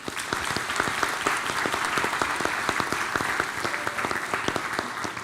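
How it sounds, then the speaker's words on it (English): Audience at a school board of education meeting applauds steadily, a dense sustained round of clapping from a roomful of people with no talk over it. "Let's give our scholars and our families a round of applause."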